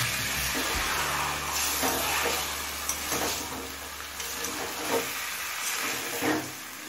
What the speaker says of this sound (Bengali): এবারে বিটরুট আর চিকেনটা খুব ভালোভাবে কষিয়ে নেব।